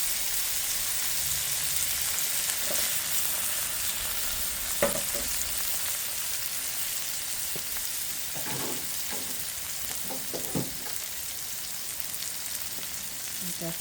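Baigan choka, a mashed eggplant dish, sizzles steadily in a pan on an outdoor backyard stove while a spoon stirs it, scraping and clacking now and then over the constant frying hiss.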